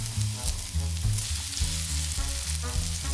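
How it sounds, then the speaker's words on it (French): Vegetables sizzle in olive oil in a pan for a lentil dish. The frying hiss is loud and continuous and close up, with stirring scrapes and a low, uneven rumble underneath. "Et on va commencer par faire revenir les légumes dans un peu d'huile d'olive."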